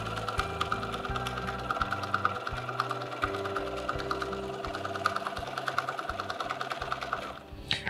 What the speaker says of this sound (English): And then just a few short stitches to finish off the line of quilting.